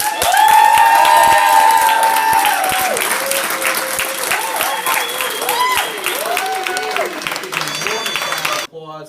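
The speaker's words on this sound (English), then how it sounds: "But a big round of applause for Ron and Rob." Loud, sustained applause from a large crowd, with cheering voices rising over the clapping throughout.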